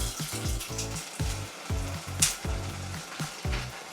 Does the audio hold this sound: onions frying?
yes